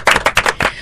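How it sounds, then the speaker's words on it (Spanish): Studio audience clapping on a television talk show, a brief burst of applause with uneven, overlapping claps at close range. "¡Aplauso!"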